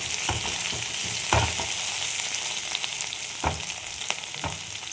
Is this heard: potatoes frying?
yes